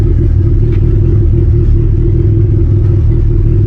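A Honda Civic EF engine runs while warming up, giving a loud, steady low rumble heard close and continuous with no voices.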